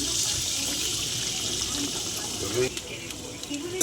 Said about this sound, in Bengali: তো তেল গরম হয়ে গেছে, দিয়ে দিলাম সর্ষে পোস্তর জলটা